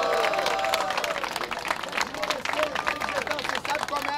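Crowd at a Brazilian freestyle rap battle claps and cheers loudly and continuously, a dense wash of applause with voices shouting through it.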